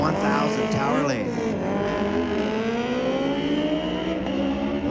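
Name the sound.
Yamaha R1 and Suzuki GSR 1000 motorcycles drag racing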